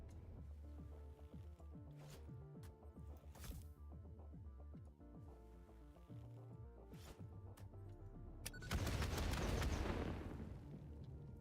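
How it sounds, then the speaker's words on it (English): Bombs detonate in Satisfactory, a game, with a sequence of sharp clicking impacts followed by one loud, roaring blast that swells and fades over a couple of seconds near the end. "Throw some bombs on the other one"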